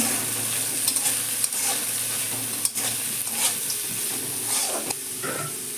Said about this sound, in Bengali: গ্যাসটা লো রেখেই আমি ভেজে নেব